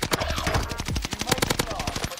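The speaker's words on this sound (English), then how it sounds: "No, that was a shot" Rapid automatic gunfire rattles in Warzone Pacific, dense repeated shots in quick bursts with brief gaps, loud and close, with a voice talking faintly underneath.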